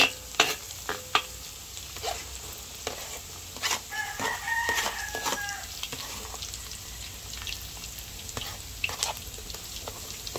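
Aromatics sizzle in a large wok (talyasi) as laing is cooked outdoors, a steady frying hiss broken by sharp clangs of a spatula scraping metal, while a rooster crows in the background.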